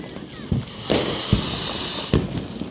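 Diwali firecrackers burst outdoors in a string of sharp, loud bangs spaced irregularly about half a second apart, with crackling tails and faint voices in the background.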